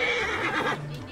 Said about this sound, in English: Let's use a horse.